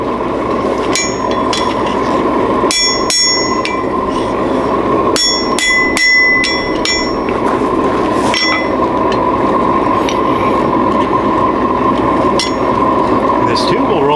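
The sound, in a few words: hammering hot steel chisel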